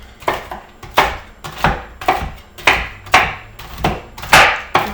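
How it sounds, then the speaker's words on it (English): A knife chops pecans on a wooden board, about ten sharp, close knocks in a steady rhythm, with no talking. "I'm just gonna start chopping up these pecans"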